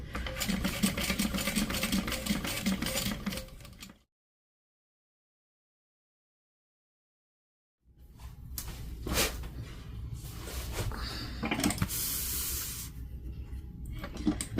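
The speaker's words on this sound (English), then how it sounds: "then I'm going to do the top stitch around the bind, which I also leave my strings long" Sewing machine top stitching around a binding, a steady close whir for several seconds, then silence, then more running mixed with handling rustles and a short hiss.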